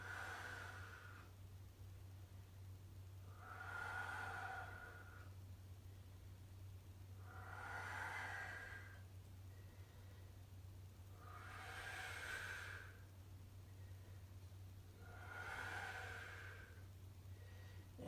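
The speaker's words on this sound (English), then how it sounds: "I'm going to breathe deeply here." Slow, deep breaths taken during a hamstring and hip stretching routine, four soft airy exhales spaced evenly about four seconds apart over a low steady hum, close and quiet with no talking.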